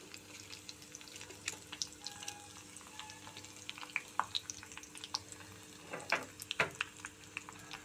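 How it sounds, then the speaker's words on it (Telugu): Garlic, urad dal and chana dal frying in oil for a tempering, with a steady close crackling sizzle, scattered sharp pops and a brief stirring clatter near the end. "వెల్లుల్లి 4 కచ్చా చితక్కొట్టు వేసానండి, బాగా వేగుతుంది."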